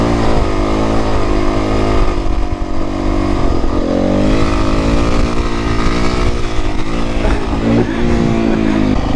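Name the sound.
loud car driving past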